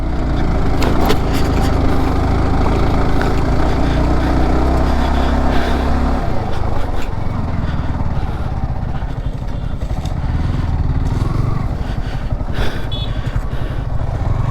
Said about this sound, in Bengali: উনি রেস লাগাইতেছে রেস মানে আগে থেকে বাইকের একদম দম নাই